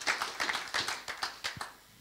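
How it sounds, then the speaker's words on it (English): Scattered hand claps from a small audience, a handful of separate sharp taps spread across two seconds rather than a full roar, fairly quiet and close. "Please give a round of applause."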